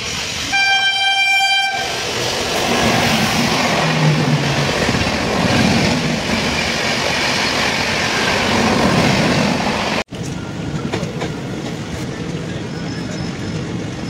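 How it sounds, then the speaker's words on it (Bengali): The 15639 Puri Kamakhya Express passes through Falakata station, opening with a sharp horn blast and then a long, loud, continuous rumble and clatter of carriages close by, with a brief abrupt break near the end. "এবার আমাদের ট্রেনের সাথে দেখা হবে 15639 পুরী কামাখ্যা এক্সপ্রেসের সাথে"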